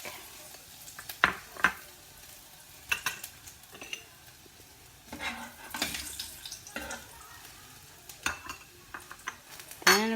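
Garlic sizzles and spits in hot cooking oil in a pan for a spicy tomato sauce, with soft frying hiss broken by scattered sharp pops and clinks of a utensil against the pan, close and fairly quiet.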